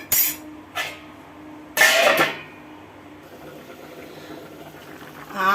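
An Andhra-style pumpkin curry with jaggery boils in a covered pot, giving a few sharp bursts of bubbling and lid rattle between quieter simmering stretches.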